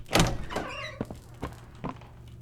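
A door in the video game Poppy Playtime Chapter 3 slides and thunks, a few sharp knocks and scraping sweeps spread over two seconds, fairly close and fairly quiet.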